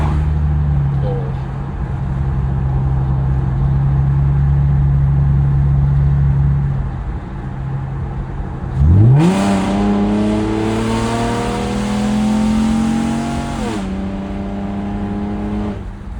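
A 2011 Camaro with a 3.6L V6 in sport mode idles low and steady, then the engine revs up sharply and pulls hard with rising gear-by-gear whine for several seconds before easing off, loud and close from inside the car.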